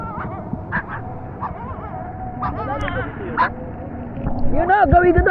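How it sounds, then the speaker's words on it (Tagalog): A dog near a river gives short yips and whimpering barks at intervals, fairly close, while people talk throughout. "Aso."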